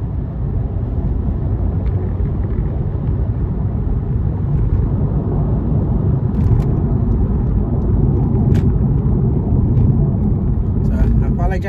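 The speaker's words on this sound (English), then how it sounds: "And my car is like shaking." A car shaking on worn tires that need replacing gives a steady, loud, close low rumble of road and engine noise that continues throughout, with a person talking over it.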